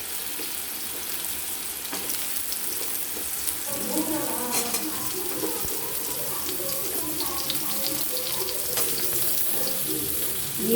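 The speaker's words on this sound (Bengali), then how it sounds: "কিছুক্ষণ লাল লাল করে ভেজে নেব" Potatoes and pointed gourd pieces fry in hot oil for a mixed vegetable dish, giving a steady broadband sizzle with occasional clatters and faint stirring or water noises mixed in, and no talking.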